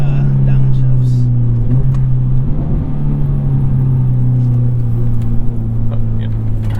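Engine of a 2007 Subaru WRX STI on a test drive, a steady loud interior drone that rises and falls with revs and shifts, with people talking over it.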